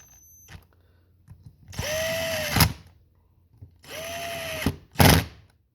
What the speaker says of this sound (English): We'll use my wrench once I get the screw started.